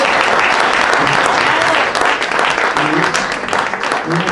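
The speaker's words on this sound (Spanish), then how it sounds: "¡Aplausos!" Sustained applause from a large audience at a wine-tasting anniversary event for Viña Albina of Bodegas Riojanas, dense steady clapping filling the whole stretch at high volume.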